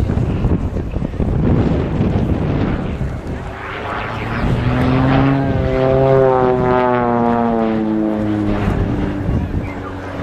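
A Swiss Air Force Pilatus PC-7 propeller plane at an air display drones loudly overhead as it climbs, stalls and drops into a spin, its engine pitch rising and sweeping through wavering tones against strong wind buffeting.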